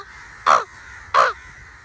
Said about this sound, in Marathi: सिरियसली नव्हते मगाशी एवढे कावळे नव्हते मगाशी